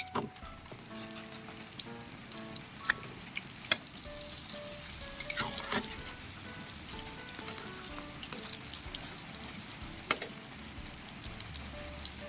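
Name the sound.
tortang kangkong (water spinach omelette) frying in a pan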